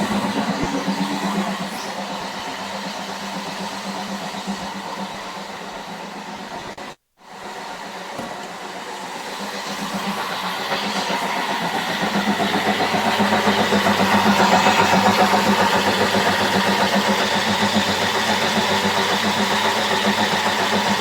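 Thermomix running as a blender at speed 10, crushing hard ice for a mango smoothie, giving a steady loud whirring roar that cuts out briefly and then builds again, with no talking.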